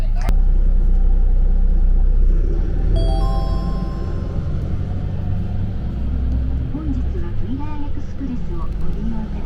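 A WILLER EXPRESS night bus engine rumbles low and steady as the coach departs, with a brief chime partway through and voices talking over the drone.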